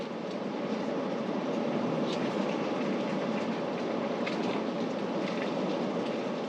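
A passenger train rolls past on nearby tracks in a forested area, a steady loud rumble with faint clacking throughout.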